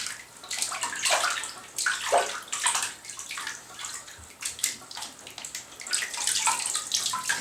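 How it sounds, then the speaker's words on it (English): Water splashes and pours continuously while a ferret is rinsed in a bathtub, an uneven wash of sloshing and running water with rising and falling surges, close by and without speech. "Make sure to get the neck area rinsed off where you got them wet."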